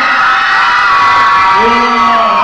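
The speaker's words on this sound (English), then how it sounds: "Every single chick scream as loud as they can." Nightclub crowd of women screaming loudly together at a live event, a dense sustained wall of high-pitched shrieks and cheers that fills the whole stretch without pause.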